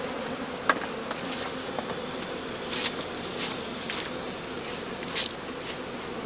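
Honey bees buzz around an open straw skep hive in a steady, dense outdoor drone, with a few louder bees passing close by now and then and no talking.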